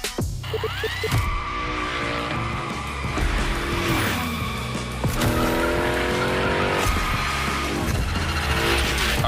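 A car sliding through gymkhana drifts in The Crew Motorfest, with a revving engine and long tire squeals that rise and fall, loud and close, over about nine seconds.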